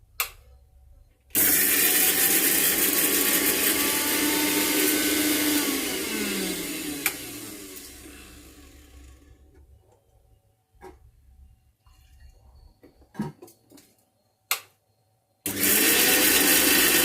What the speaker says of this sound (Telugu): ఆవాలు, ఉల్లిపాయ, ఈ 2 కలిపి మిక్సీ పట్టుకుందాం